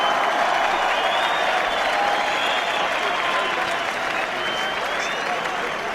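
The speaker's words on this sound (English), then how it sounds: "Ladies and gentlemen, a round of applause for the talented and the gallant Kevin Mitchell." Large crowd at Upton Park, West Ham, London, applauding boxer Kevin Mitchell at a boxing event, with sustained, dense clapping and cheering that holds steady for the full stretch.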